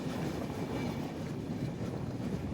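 Train travelling through forest near Nagpur, a steady loud low rumble of the moving carriage heard from on board, continuous with no clear clacks.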